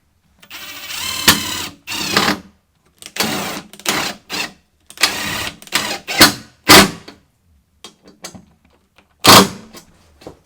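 A power driver runs in short repeated bursts, whirring and stopping as small self-tapping screws are driven in during a tiny-home bathroom renovation, with quiet gaps between each burst.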